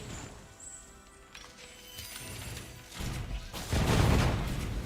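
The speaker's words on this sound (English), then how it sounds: "This sound seems a little bit too loud, doesn't it? The one for the extra explosions." Explosion effects from the action RPG video game Torchlight 3 build into a dense series of crashing, rumbling blasts that grow louder toward the end, layered over game background sounds.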